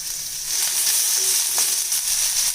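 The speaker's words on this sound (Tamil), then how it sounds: "இப்போ இந்த வெங்காயத்தை நல்லா கலர் சேஞ்ச் ஆகிற வரைக்கும் வதக்கி எடுத்துக்கலாம்" Steady sizzling of onions and fennel seeds frying in hot oil, a constant crackling hiss with a light clink partway through.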